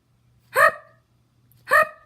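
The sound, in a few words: hiccups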